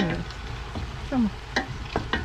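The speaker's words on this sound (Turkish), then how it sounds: "Onun için bunu mümkün olduğunca az yağda çeviriyorum." Beans fry in a little oil in a pan, giving a low sizzle broken by several scraping stirs and clinks of a utensil, close up and moderately loud, with no talking.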